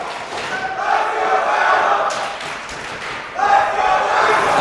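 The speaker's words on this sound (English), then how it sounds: "Listen to those fans cheer for him." Fans at an independent wrestling show in 2018 cheer and shout, a loud crowd roar that swells and dips with scattered claps and thuds from the ring, rising again near the end.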